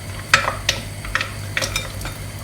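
A wooden spoon stirs chocolate melting with butter in a pan, giving a few quick scraping, clinking strokes over a faint low sizzle, close up with no talk.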